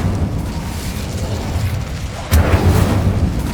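Incendio fire spell cast in Hogwarts Legacy, a steady low rumble that breaks into a louder sudden whoosh and burst of flame partway through, continuing as a heavy roar.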